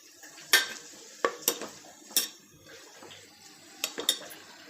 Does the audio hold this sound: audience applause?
no